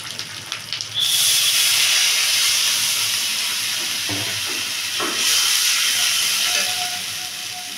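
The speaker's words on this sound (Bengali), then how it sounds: "জল ফুটে উঠেছে" Water with ginger-garlic paste heats in a cooking pot and comes to a boil, giving a loud steady hiss and bubbling that swells after a second, with a few faint clinks.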